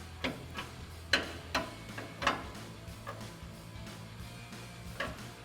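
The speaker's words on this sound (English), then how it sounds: "We're gonna tighten down this bolt right here." A 24mm wrench ratchets while tightening a lower control arm bolt on a 2007-2021 Toyota Tundra, giving sharp metallic clicks in an irregular series of about seven over a low background hum.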